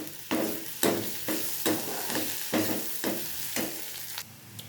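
Onion frying in oil with ginger garlic paste and asafoetida for a gongura methi meal maker curry: a steady close sizzle broken by rhythmic scraping stirs about every half second.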